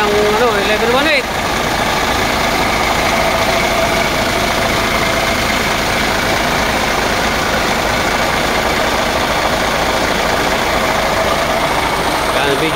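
A vehicle engine idles in a steady, droning rumble throughout, with a brief voice at the very start.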